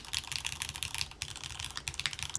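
Rapid typing on a mechanical keyboard with an aluminum bottom gives a steady stream of close, crisp keystroke clacks with a slightly thin tone. The keys run continuously without pause, and no one talks.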